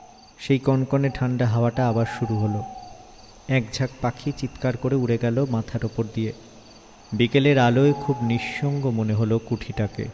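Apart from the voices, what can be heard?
crickets chirping, sound effect in audio story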